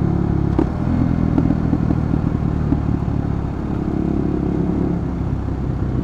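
A KTM Duke 250 motorcycle with a loud aftermarket exhaust idles and revs nearby, the throaty engine rumble rising in a couple of sharp blips before settling into a steady burble.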